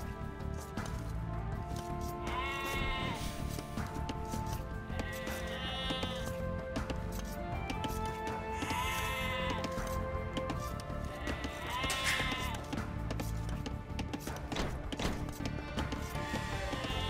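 Sheep bleat repeatedly in the Age of Empires II strategy game, several wavering calls over a dense bed of game music and effects, mid-level and steady throughout.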